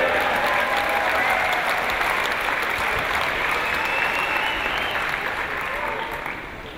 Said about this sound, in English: Big round of applause for all of our athletes standing before you